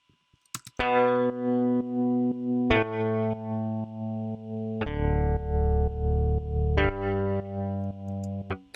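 A distorted, heavily effected software electric bass in Reason 11 plays a slow chord progression, four sustained chords changing every two seconds, loud and alone.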